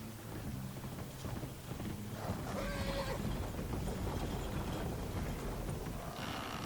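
Horse whinnying and hooves clip-clopping in Red Dead Redemption 2, with one neigh standing out over steady wind-like background noise.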